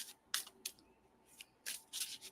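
Tarot cards being shuffled by hand, producing several short, close riffling and rubbing bursts separated by brief quiet gaps.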